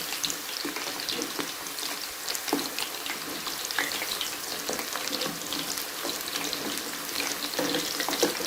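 Chicken pakoras deep-frying in oil after being turned to cook the other side, a steady broadband sizzle with scattered crackles and a few soft clinks, continuous and fairly quiet throughout with no talking.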